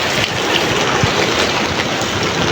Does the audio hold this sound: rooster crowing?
no